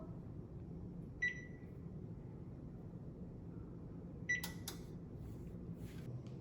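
An oven preheating to broil gives two short electronic beeps a few seconds apart over a faint steady hum, followed by a handful of light clicks and taps.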